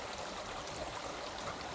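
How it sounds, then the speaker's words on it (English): A partly artificial waterfall at High Cliff State Park in winter, a steady, soft, hissing rush of falling water heard from some distance, even and continuous with no voices. "there is always apparently a waterfall here, although it's not entirely natural"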